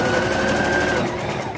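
A sewing machine stitches a saree blouse, running in a loud, rapid, rattling burst of needle strokes that continues close up and fades slightly toward the end, without any talking.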